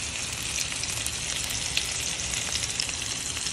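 Salmon fillets browning in a hot pan for creamy garlic Tuscan salmon give a steady, close, crackling sizzle with fine popping spatter throughout and no talk.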